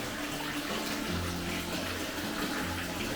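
Hot spring water from the Naka-no-yu source pours steadily into a wooden bath with mineral-crusted floors at Tsuru-no-yu in Nyuto Onsen, Akita, a constant close gush and splash with no talk.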